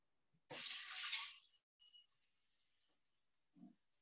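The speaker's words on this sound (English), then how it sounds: "quick wash of the hands" A kitchen tap runs briefly as hands get a quick wash before cooking mushroom soup, a loud near splash of about a second, then faint drips and a small knock in a quiet room.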